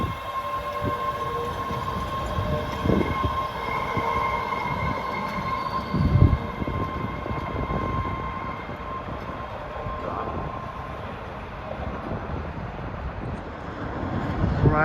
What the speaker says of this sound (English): there's a Braintree Airlife train arriving with Bombardiers